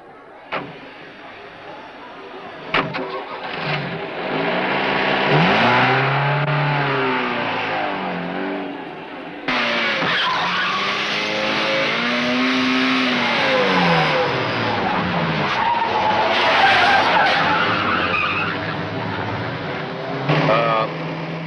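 A car engine turns over and revs repeatedly with rising and falling pitch as the car pulls away, loud and close, a sharp thump early on and a second surge of acceleration midway, continuing steadily to the end.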